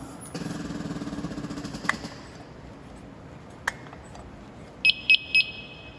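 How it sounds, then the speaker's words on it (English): A low buzzing hum fades out, a couple of sharp clicks follow, then three short, high electronic beeps sound in quick succession near the end as a firefighter's breathing apparatus computer starts up after the air bottle is turned on. "you can hear those beeps. That means that the computer system within this is turning on properly"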